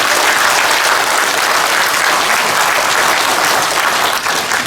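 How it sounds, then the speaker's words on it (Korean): A large crowd at a citizens' rally held in the rain claps loudly and steadily together, a thick, sustained roar of applause close by with no pause. "다 같이 결의의 박수 부탁드립니다."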